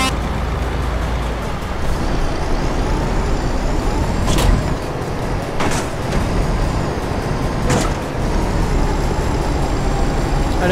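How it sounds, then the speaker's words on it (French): A truck brakes to a stop in Euro Truck Simulator 2, with a steady engine rumble underneath and several sharp hissing air-brake bursts at intervals, loud and close. "Attention, ça freine, ça s'arrête."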